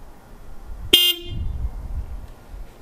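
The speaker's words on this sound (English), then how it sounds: "The horn." A single short honk from the horn of a 2021 Toyota Corolla hatchback, heard close and loud against a quiet outdoor background, brief and slightly thin in tone, with no talking.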